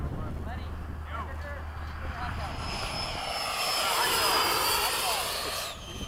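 An RC model F-16 jet from HSD flies with the throttle held up, its turbine whine and rising rush sweeping past at a distance. Outdoor rumble sits underneath and people talk near the start.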